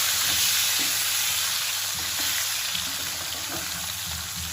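Sliced pointed gourd (potol) frying in hot oil, a steady close sizzle with faint stirring clinks throughout.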